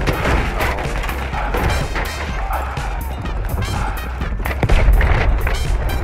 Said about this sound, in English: Oh, I'm getting shot, Nate!